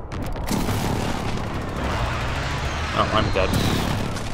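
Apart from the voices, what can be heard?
precision airstrike explosions in Call of Duty: Modern Warfare video game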